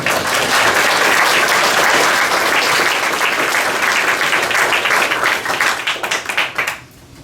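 A large crowd at a school graduation ceremony applauds loudly and steadily, a dense wash of clapping that thins out and fades near the end.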